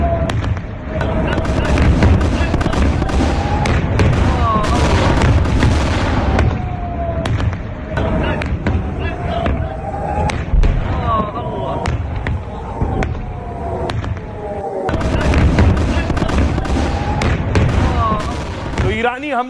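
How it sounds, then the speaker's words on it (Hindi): Iranian ballistic missiles strike Tel Aviv in a dense, continuous barrage of loud bangs and crackling blasts, one after another, with talk layered over them. "ईरान ने एक के बाद एक दर्जनों मिसाइलें इस पर दाग दी हैं।"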